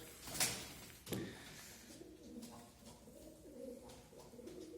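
Pigeons coo softly and repeatedly at close range in a coop inside a shop, low warbling calls overlapping, with two sharp knocks near the start.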